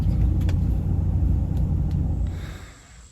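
A pickup truck rolls along with a dog riding in the back, giving a steady low engine and road rumble that eases off and fades toward the end.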